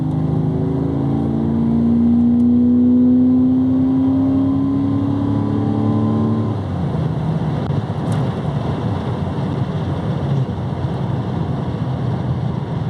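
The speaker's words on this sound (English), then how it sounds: "just listen to that engine roar" A 1977 Jaguar XJC V12 with a manual gearbox conversion roars steadily while driving on an open road, its loud engine note rising then settling into a continuous drone with wind rush, no talking.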